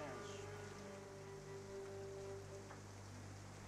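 Rain falls steadily in a TV drama scene, a soft continuous hiss of drops beneath a low sustained musical drone, fairly faint and without talk.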